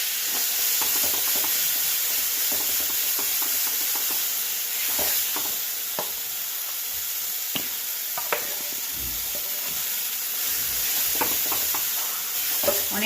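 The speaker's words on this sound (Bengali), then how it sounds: "পেস্ট দিয়ে কড়াইশুঁটির পুরটা বানাবো।" Green pea paste filling frying and being stirred in a kadai of hot oil, a constant close sizzle with scattered scraping ticks from the spatula throughout.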